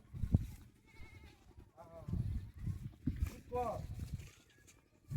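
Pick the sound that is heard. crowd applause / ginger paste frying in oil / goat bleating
goat bleating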